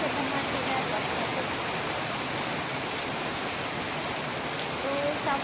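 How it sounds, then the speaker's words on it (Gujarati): Heavy evening rain falls in a dense, continuous hiss that stays loud and even from start to finish. "બરોબરનો વરસાદ ચાલુ થઈ ગયો છે"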